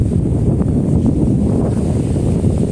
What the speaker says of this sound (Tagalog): saka lumakas yung hangin